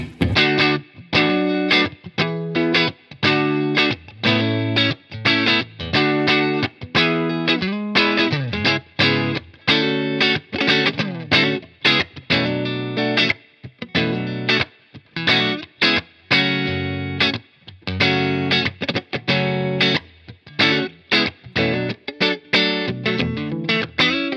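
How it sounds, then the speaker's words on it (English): Distorted electric guitar through a Peavey Classic 20 Mini Head amp strums chords in a steady rhythm, with a roomy reverb tail behind each stroke. No one speaks. "We'll put just a touch of reverb in there, and let's hear what we got."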